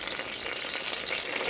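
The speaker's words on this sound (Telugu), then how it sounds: "అన్నీ వేసి బాగా ఫ్రై చేయాలి." Peanuts fry in oil inside a pressure cooker as tempering for tomato rice, making a soft, steady sizzling hiss with no voices.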